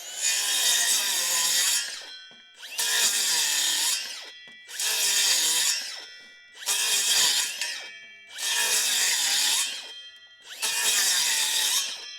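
A worn saw blade cutting through timber while building a garden office, six loud, evenly spaced rasping cuts, each a couple of seconds long with short pauses between, close and alone without talk.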